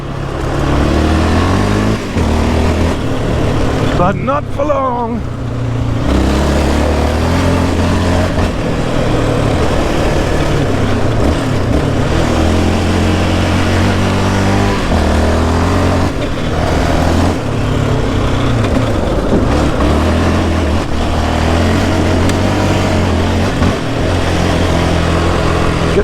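Yamaha Raptor 700 ATV engine at Army Ranger Camp Merrill, running loud and close with a continuous rough drone that rises and falls in revs. Someone speaks briefly over the noise.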